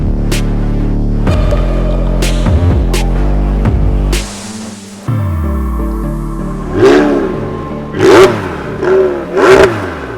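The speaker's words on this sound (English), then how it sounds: "Is that revving enough?" A McLaren 720S Spider's engine revs loud and close in a series of sharp blips, then drops away before climbing into three rising, throbbing revs near the end.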